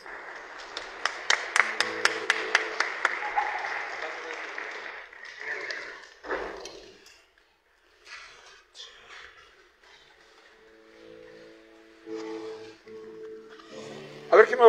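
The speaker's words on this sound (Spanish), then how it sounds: "Un aplauso." Workshop audience applause breaks out as a crowd claps for a musician in a series of quick, sharp hand claps that thin out after a few seconds, followed by quiet room sounds and scattered speech.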